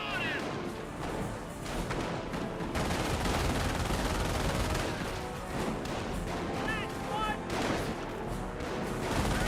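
Infantry rifle and machine-gun fire mixed with shell explosions in the World War II strategy game Company of Heroes, dense overlapping bursts and thuds rattling continuously at close range, with a few whistling sounds above.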